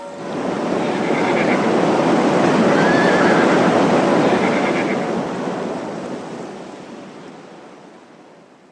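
Horses whinny amid rushing flood water and surf-like wash in a dramatized scene, the neighing rising over a continuous roar of water and wind that swells, peaks midway and slowly fades.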